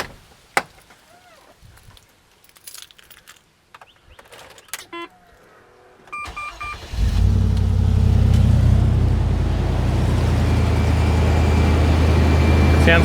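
A 4.6L V8 engine cranks and catches after some quiet handling noises, then settles into a loud, steady, smooth idle that continues to the end.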